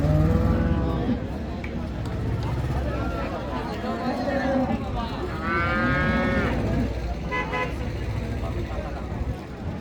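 A large seven-tooth Friesian cow at Raniganj cattle market gives a few drawn-out moos amid crowd chatter, with vehicle horns tooting and road traffic in the background.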